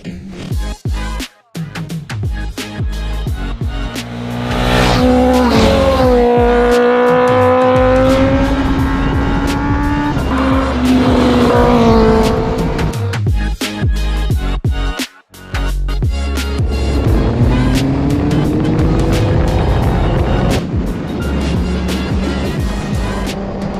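A Kawasaki H2 with 268 hp at the wheel and a KTM 1290 Super Duke ride hard. A loud, close engine howl climbs in pitch through repeated gear changes, with brief drops between surges.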